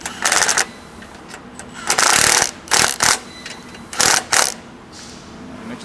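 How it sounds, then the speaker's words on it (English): Recovery tow point bolts on a Toyota Prado 250 being tightened by hand with a ratchet, giving repeated bursts of quick clicking, loud and close, separated by short pauses. "Before we torque all these bolts up, we just want to make sure they're all nipped up and there's no gaps between everything"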